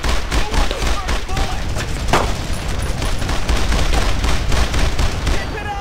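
Sustained in-game gunfire from the World War II shooter Brothers in Arms: Road to Hill 30, rapid rifle and machine-gun volleys crackling continuously for several seconds with a heavier boom mid-way, under shouted squad commands.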